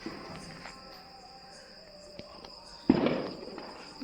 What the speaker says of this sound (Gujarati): છોકરાઓ ફટાકડા ફોડી રહ્યા છે